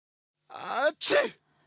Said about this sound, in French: Tout commence par un éternuement, avec de gros postillons.